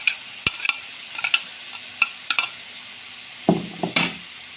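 Onions and garlic go into a hot pan for a chicken and potato tray bake, with a low sizzle under sparse scrapes and knocks of stirring.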